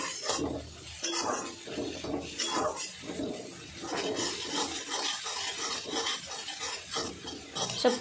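A spoon scrapes and stirs through turmeric and coriander powder mixed into a fish curry base with potatoes and cichlid fish, giving soft repeated rasping and scraping strokes in a pan with occasional light clinks, close and fairly quiet, without talk.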